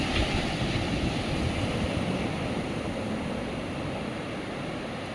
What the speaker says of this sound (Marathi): फक्त तुम्ही आवाज ऐका समुद्राचा पाण्याचा